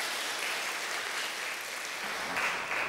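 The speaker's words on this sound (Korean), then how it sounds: "여러분들 환영의 박수 부탁드립니다." A church congregation applauding to welcome a member during a Sunday service, a continuous, even wash of clapping from a large hall that stays steady for the whole stretch.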